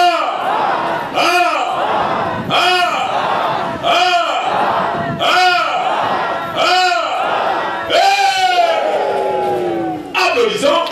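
At a church service, a congregation acclaims God with rhythmic, loud collective shouts and cheers, voices rising and falling in repeated bursts about every second and a half, ending in a longer sweeping cry.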